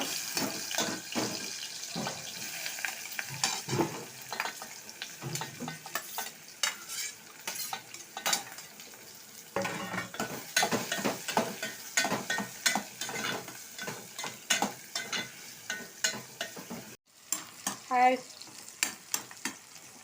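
Onions fry in hot oil for a spinach dish while a utensil stirs them, a steady sizzle broken by repeated scraping strokes against the pan, close and moderately loud with no talking.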